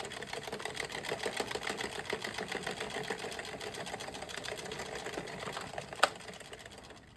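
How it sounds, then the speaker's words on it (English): Continuous soft clicking of hand knitting with green yarn, nine rows of stitches for a beanie, heard as a steady quiet rhythm close by with no talking. "So I'm going to continue now knitting for my 9 rows"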